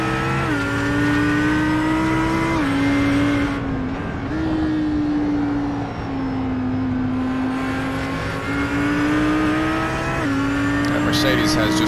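A Mercedes race car in a virtual racing game at Watkins Glen drones with a loud, steady engine whine that rises and dips through gear changes, with commentators talking over it throughout.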